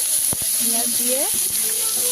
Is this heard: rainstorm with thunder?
no